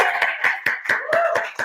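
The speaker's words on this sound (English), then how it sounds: "let's give Judy a round of applause" A live audience at a small studio event gives Judy a round of applause, a close, rhythmic burst of hand claps with a faint tone running underneath.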